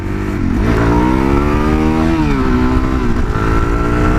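A Suzuki DRZ400SM supermoto runs up through the gears on a hot road. Its engine note climbs and drops with each shift, loud and close, steady throughout.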